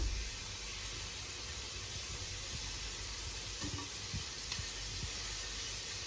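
Chicken pieces frying in a pan of oil while making rice with sauce, giving a steady, even sizzle and hiss that carries on without a break, with a few faint clicks and no voices.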